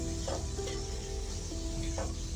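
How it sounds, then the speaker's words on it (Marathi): Finely chopped tomatoes sauté in hot oil for biryani, giving a dense, continuous sizzle with a few faint stirring scrapes and no talk. "आता एक मिनिट असं टोमॅटो तेलामध्ये परतून घ्यायचं"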